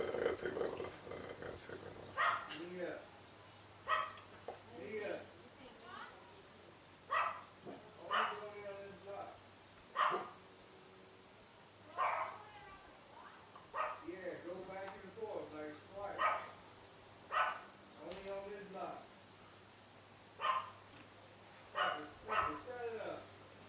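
A family dog barking in repeated short bursts at a steady pace through the whole stretch, fairly close by, with a man yelling at it and people talking underneath.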